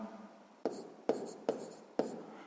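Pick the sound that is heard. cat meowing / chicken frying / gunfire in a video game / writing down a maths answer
writing down a maths answer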